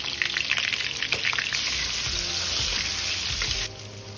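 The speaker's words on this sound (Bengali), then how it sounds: "আলুগুলো ভেজে নেব, সামান্য একটু হলুদ," Potato pieces fry in hot oil with a little turmeric for mutton biryani, crackling and spattering up close with some stirring, then settling into a steady sizzle.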